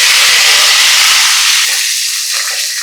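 A handful of curry leaves hits hot oil alongside frying urad dal and cumin, producing a loud, close, continuous sizzling hiss that eases slightly toward the end.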